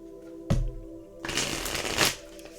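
A deck of cards is riffled close by: a sharp snap, a pause, then a longer flutter of cards shuffling together.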